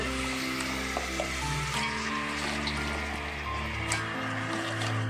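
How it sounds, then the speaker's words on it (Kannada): Mutton pieces go into hot oil for a mutton biryani and fry with a soft, steady sizzle, fairly quiet, with faint stirring under a low background hum. "ಎಣ್ಣೆ ಕಾಯಕ್ಕಿಟ್ಟಿದ್ದೀನಿ ಮಟನ್ನ ಬೇಯಕ್ಕೆ ಹಾಕೋಣ"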